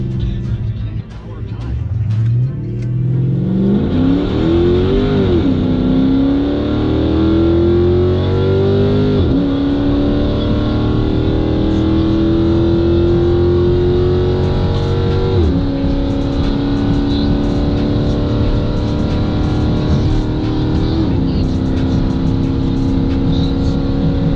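A RIPP-supercharged 3.6L V6 Chrysler 300 accelerates hard at over 130 mph, its engine and supercharger whine climbing through long, loud, sustained pulls with brief dips at the gear changes, recorded from inside the car, with a voice heard briefly under the roar.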